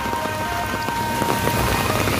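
Heavy rain pours down steadily in a rainstorm, a dense, continuous hiss of drops drumming on surfaces, close and unbroken, with no voices.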